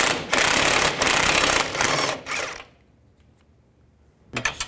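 A socket wrench with a 21mm socket turns a nut off a control-arm bolt on a 2010-2017 Chevrolet Equinox, giving rapid ratcheting clatter in several close bursts, then a quiet pause and a final short burst.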